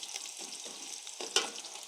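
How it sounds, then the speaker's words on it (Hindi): Food frying in a pan for matar pulao, a steady soft sizzle with a few louder stirring scrapes and clatters, heard alone at moderate loudness. "इसको हमने लाइट ब्राउन होने तक इसको हमने फ्राई करना है।"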